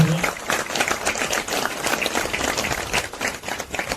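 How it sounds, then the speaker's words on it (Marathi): An audience claps during a Satyanarayan Mahapuja at a Sai Baba temple renovation ceremony, a dense, steady applause of many hands held evenly for several seconds, fairly close. "त्यांच्यासाठी एकदा जोरदार टाळ्या होऊन जाऊ दे"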